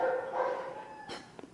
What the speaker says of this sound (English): I'm so sorry about the dogs outside.